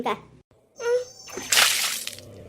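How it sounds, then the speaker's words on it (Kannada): Water splashes down on a sleeping boy to wake him, a loud broad splash of about a second following spoken voices. "ಏಯ್ ನೀರು ಹಾಕ್ತೀನಿ ತಡಿ ಅವಾಗ ಎಚ್ಚರಿಕೆ ಆಗ್ತದೆ"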